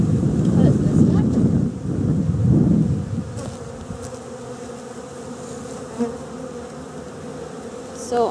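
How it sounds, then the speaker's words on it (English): Honeybees buzz loudly and close around a hive, a dense droning swarm that eases off after a few seconds into a quieter, scattered hum with light wind noise. "So all these bees can walk back into their hives."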